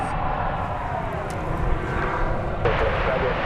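An airplane departing DFW Airport gives off a steady, loud jet roar, with a voice talking beneath it.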